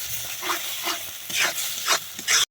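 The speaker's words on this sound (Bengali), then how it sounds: "এবার ভালো করে নাড়াচাড়া করে নেব সমস্ত কিছু।" A spice paste of poppy seed and cashew is stirred in hot oil with pointed gringa potol (pointed gourd) and prawns, the spoon scraping in repeated strokes about every half second over a steady close sizzle.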